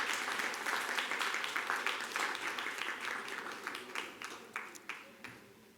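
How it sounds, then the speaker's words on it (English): A board meeting crowd gives one more round of applause, a fairly distant, moderate wash of clapping that thins out into a few scattered, separate claps near the end. "Let's give them one more round of applause"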